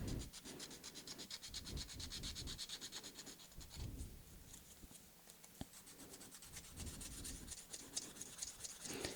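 Steady back-and-forth rubbing of sandpaper against a primed 3D-printed part, close and rhythmic, continuing throughout with a brief lighter pause.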